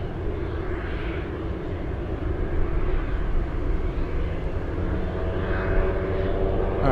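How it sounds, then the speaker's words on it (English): A Boeing 737 formerly flown by British Airways at Anchorage airport gives off a continuous jet engine roar, a dense low rumble with a faint whine above it, holding at a steady, fairly close level throughout. "So the 737 you're looking at, that's an ex-British Airways 737."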